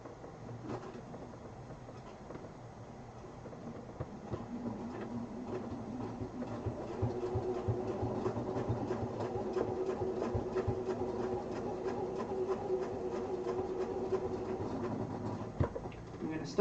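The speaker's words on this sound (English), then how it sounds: "we're going to stitch up and around the template until we come back to this middle point" Sewing machine stitching up and around a template on a quilted duffel bag, a steady rapid mechanical whir and clatter running throughout at moderate level.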